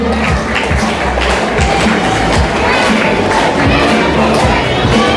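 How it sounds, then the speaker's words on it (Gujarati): An audience applauds at a Class 12 prize distribution ceremony as a student is honoured. Dense, loud, sustained clapping from a crowd fills the whole stretch. "તાળીઓથી વધાવી લઈએ મિત્રો."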